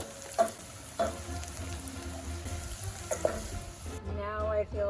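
Onions cook down in a pan for an Ethiopian staple dish, giving a steady, close sizzle with a few clattering stirs and thuds, plus a faint tonal voice near the end.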